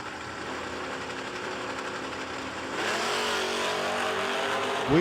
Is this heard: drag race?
yes